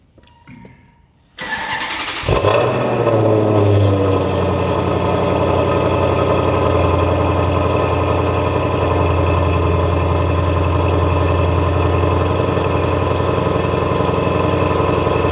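A restored car engine cranks briefly with the starter and then fires up, settling into a loud, steady idle that runs on without a break, heard close and alone.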